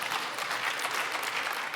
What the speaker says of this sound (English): And I really wish you hadn't applauded.